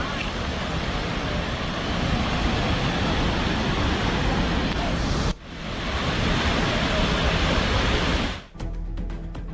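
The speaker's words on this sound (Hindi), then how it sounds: "बगल से बहती हुई नदी, कलकल धारा" A river flows past houses in a Nepali hill settlement, its steady rushing murmur loud and continuous, broken by a couple of abrupt cuts.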